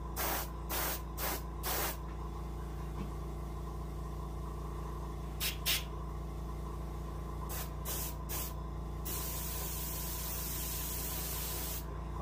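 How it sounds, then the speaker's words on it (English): Short bursts of an airbrush spraying paint onto an Arctic char taxidermy fish, hissing on and off in quick pulses and then one longer spray, over a steady compressor hum. "Now's a good time to try to concentrate your spray where it needs to go."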